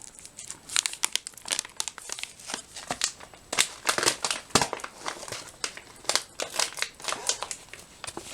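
A Ziploc bag from a ration pack is handled and opened, giving a run of loud, close plastic crinkles and crackles in irregular bursts, with no talking.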